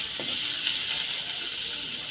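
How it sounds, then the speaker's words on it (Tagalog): Red onions sautéing in a pan for a soy-seasoned dish, giving a steady, close hiss of frying that holds evenly throughout with faint stirring clinks. "Diyan na rin natin igigisa yan. Ayan na, unahin natin ng sibuyas."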